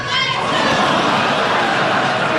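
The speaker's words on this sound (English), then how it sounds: "you hear the crowd react" A crowd reacts after a thrown pen hits a podium. The loud, sustained wash of murmuring and voices is close and fills the whole moment.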